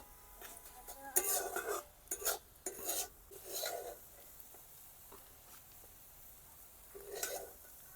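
Quiet scraping and stirring of grated coconut mixed with jaggery in a pan for dudh puli, a few soft irregular strokes clustered early and one more near the end, with gaps of near silence.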